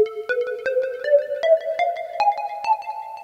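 Synth lead stepping up a harmonic minor scale in a big room house style, a steady run of short, evenly spaced plucked notes that climb gradually, moderately loud and alone with no voices.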